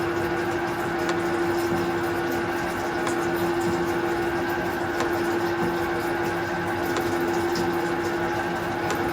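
A 1925 Butler shaper machine runs with a steady mechanical hum and a constant tonal whine, close and even, with faint periodic clicks from the mechanism.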